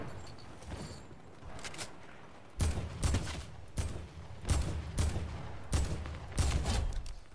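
Gunfire in Fortnite Team Rumble, a series of sharp, loud shots in an uneven rhythm, roughly one every second, after a quieter stretch, with no talk over them.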